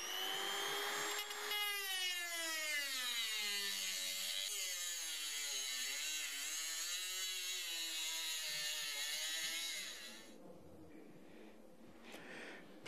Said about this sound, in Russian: Отрезной круг в действии.